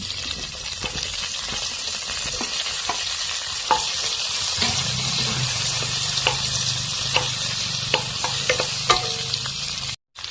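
Cauliflower frying in a pan, with a steady loud sizzle throughout and occasional stirring clinks and scrapes of a utensil, and no talking.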